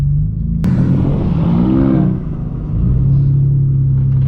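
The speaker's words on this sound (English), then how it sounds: "We'll go ahead and hop inside the M4 and get on the road." Straight-piped BMW M4 F82 driving on the road, its loud engine and exhaust droning steadily with a rising rev and a brief dip, heard from inside the car.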